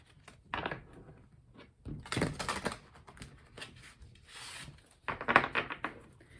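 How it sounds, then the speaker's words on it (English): Tarot cards being shuffled by hand, several short papery bursts of riffling and rubbing separated by brief pauses, close and fairly loud. "One more shuffle."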